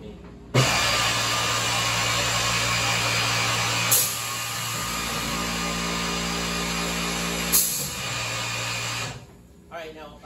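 An older Vitap Alpha woodworking machine runs loudly with a steady, high whining motor drone, shifting in pitch and load a few times, while someone talks over it.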